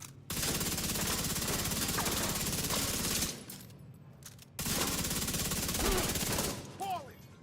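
Sustained automatic weapon fire in The Division 2, loud and dense, running in two long bursts separated by a brief pause.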